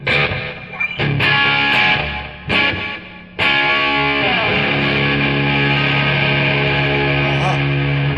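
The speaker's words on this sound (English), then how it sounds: "Hear that chorusing effect?" Electric guitar chords through a Tech 21 Fly Rig 5 chorus set to sound like tape echo, sustained notes shimmering and wavering, with a couple of brief pauses between strums.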